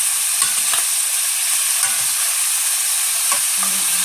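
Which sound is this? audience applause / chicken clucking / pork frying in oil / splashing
pork frying in oil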